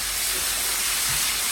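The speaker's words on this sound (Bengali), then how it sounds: "গার্লিকটা একটু ফ্রাই হোক অনিয়নের লগে" Garlic and onion frying together in a pan give off a steady, dense hiss that runs unbroken from start to finish, close and fairly loud, with no other sounds over it.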